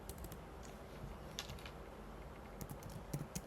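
Steady typing on a computer keyboard while writing C++ code, a quiet run of rapid key clicks with a few sharper taps, heard alone without speech.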